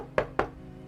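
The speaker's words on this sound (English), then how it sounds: "I could hear the waves beating against the rocks below as I walked up the path and knocked on the weather-beaten door" Two sharp knocks on a weather-beaten wooden door in an old-time radio drama, evenly spaced and close; no crash of waves against rocks is evident.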